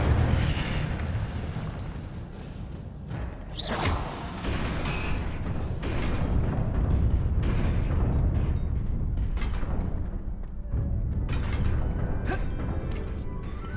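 An Incendio fire spell in Hogwarts Legacy bursts out with a whooshing, crackling blast of flame over a dense rumbling game soundscape. A bright flare comes around the fourth second, then the roar carries on for several seconds.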